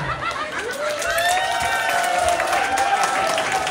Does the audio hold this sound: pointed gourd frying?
no